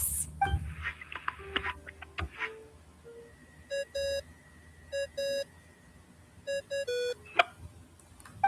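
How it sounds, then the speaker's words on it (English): A phone ringtone in a video game plays as repeated short electronic beeping bursts, in clusters of two and three, over quiet game ambience with a few soft chimes before it starts. "I really hate that ringing tone"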